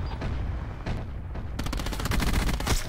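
Rapid automatic gunfire from an SOG weapon in a shooter video game, a dense continuous burst of fast shots that grows louder partway through, with no talking.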